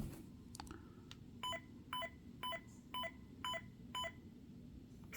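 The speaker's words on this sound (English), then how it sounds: "each time that beeps, it's signifying it's at a different stage" A Saberforge lightsaber with an ASP soundboard beeps six times in short, evenly spaced tones over a low background hum while a settings stage changes, fairly faint and close.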